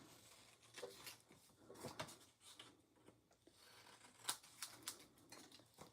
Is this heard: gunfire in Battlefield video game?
no